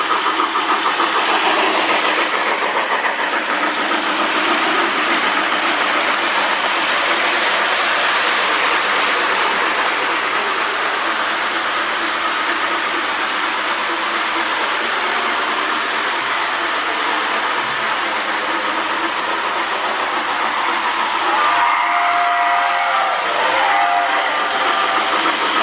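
A Lionel postwar 2046 Hudson model train runs steadily, giving a continuous close rolling and motor hum pulling a long train, with a brief whistle-like tone near the end.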